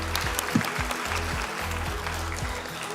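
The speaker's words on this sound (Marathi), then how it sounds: "प्रत्येकासाठी जोरदार टाळ्या होऊन जाऊया." An audience at an award show in Dubai applauds steadily, a dense wash of clapping that holds for several seconds, with a low rhythmic thump of background music underneath.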